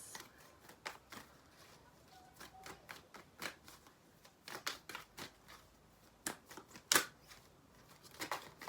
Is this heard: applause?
no